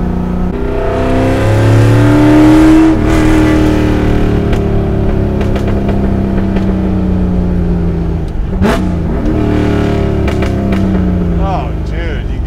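A Shelby GT350 V8 revs loudly and repeatedly close up, its sweeping engine tone rising and falling, with sharp backfire cracks bursting through, especially near the end, while excited voices talk over it.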